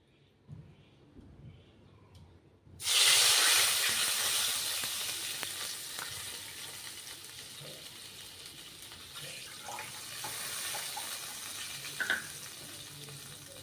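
A sudden hiss and splash as water pours into a hot pan of semolina, settling into a steady sizzle that slowly fades.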